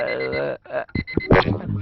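A repeating electronic alarm tone rings in steady pulses, loud and close, broken briefly by a voice.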